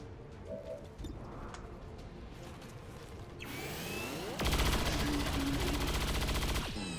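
Gunfire in XCOM 2: War of the Chosen, a sudden loud burst that fills the spectrum and rings on for a few seconds after an earlier swooshing build-up, with no voices over it.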